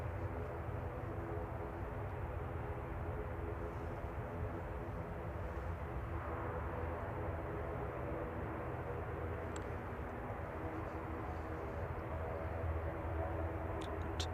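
An ATR 72-600 turboprop at Manchester Airport gives a steady, loud engine drone with a tonal hum that holds for the whole stretch and carries no talk.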